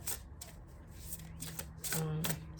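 Oracle cards from a Priestess of Light deck shuffled by hand, a soft papery riffling in several short bursts close by, with a faint hum in the background.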